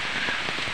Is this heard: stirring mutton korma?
no